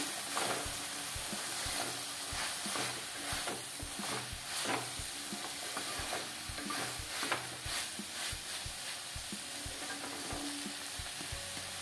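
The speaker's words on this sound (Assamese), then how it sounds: "এতিয়া মই অলপমান লৰাই দিম" Chopped coriander leaves being stirred into a sizzling pan of Assamese ghor tutur, a steady frying hiss with repeated scraping strokes of the spoon at an even rhythm, close and unaccompanied by voices.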